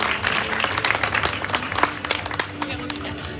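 An audience applauds a pageant candidate, a short burst of brisk hand clapping from a crowd that thins out toward the end, with a voice speaking over it.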